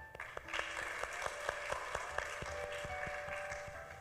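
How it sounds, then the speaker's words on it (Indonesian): Scattered hand claps ring out in a room, a modest round of applause from a small group, moderately loud with sharp individual claps. "Berikan tepuk tangan."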